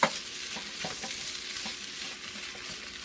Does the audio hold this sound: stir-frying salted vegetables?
yes